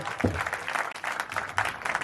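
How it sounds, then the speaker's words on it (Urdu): A church congregation applauding with both hands raised, steady loud clapping from a crowd filling the room, with a voice speaking over it. "زوردار تالیاں بجائیں گے اپنے دونوں ہاتھوں کو اٹھا کر."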